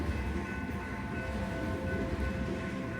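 A train passes at night through an urban landscape, giving a steady low rumble with faint tonal hum and rolling rail noise, moderately distant and continuous with no voices.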